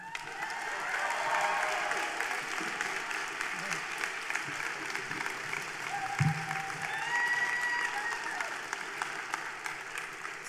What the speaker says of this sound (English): I invite the graduates, to applaud the family, friends, and faculty and staff who helped you along your way.